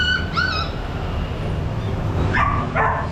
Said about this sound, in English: Look at these little things. Oh my God. They're so gorgeous. Hello puppy.